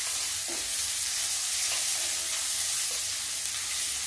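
Garlic and onion frying in a pan, producing a loud, steady sizzling hiss with a few faint scrapes of stirring, no voices over it.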